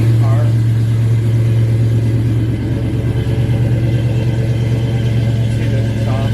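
A 1968 Mustang with a 302 V8 warming up at a fast idle, giving a loud, steady low rumble throughout with faint voices underneath.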